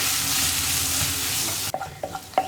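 Onions and masala sautéing in a pan for chickpea curry, a steady loud sizzle with stirring that drops away partway, followed by a few sharp scraping strokes of a spoon against the pan.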